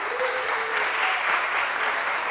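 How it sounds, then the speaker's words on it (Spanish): Festival audience at a film and television panel applauding, a steady wash of clapping from a crowd that stays even throughout the short stretch. "Quiero que recibamos con un aplauso a Pedro Adrián Zuluaga, jefe de programación"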